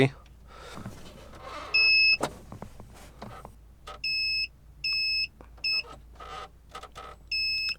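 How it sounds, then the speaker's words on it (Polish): A high electronic alarm beeps from a car's gauge display in a turbocharged Fiat Stilo 1.2 16V, in separate short bursts, five or six of them with irregular gaps, over low background noise and some quiet talk. "Po przekroczeniu wartości, którą sobie ustawimy, po prostu mamy sygnał dźwiękowy"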